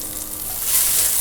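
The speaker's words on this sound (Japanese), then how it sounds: "カルドンチェロに焼き色がついてきた" Cardoncello mushrooms frying and browning in a pan, a steady close sizzle that swells a little louder toward the end, with no voices.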